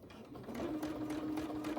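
A sewing machine runs in quick, even stitching bursts while free motion quilting along a quilt border, heard close and fairly quiet.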